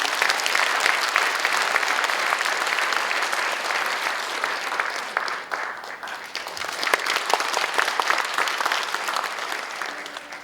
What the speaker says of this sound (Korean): 또 한 번 큰 격려의 박수로 맞아보겠습니다